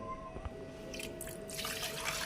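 Water is poured from a cup onto pieces of beef in a cooking pot, a short nearby splashing pour that swells after a brief drip and continues as a soft gush.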